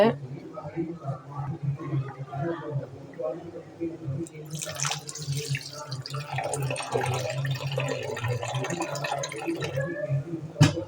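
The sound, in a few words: water poured into rice flour batter for appam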